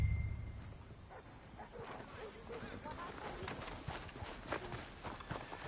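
A horse gallops with quick rhythmic hoofbeats in Red Dead Redemption 2, moderately close under a steady game backdrop, with a voice speaking briefly.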